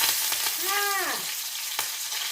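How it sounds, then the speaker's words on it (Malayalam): Curry leaves frying in hot oil while a prawn vada dish is being cooked. A steady, fairly soft sizzle runs throughout, with a brief tonal sweep rising and falling over it and a sharp crackle near the end. No talking. "കുറച്ച് കറിവേപ്പില വറുത്ത് ഇതിനകത്തെടുത്ത് വയ്ക്കും"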